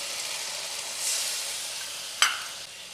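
Hot okra in a mustard-poppy masala sizzles and hisses steadily, then a splash of water hits the pan with a sharp burst of louder sizzle before settling back down.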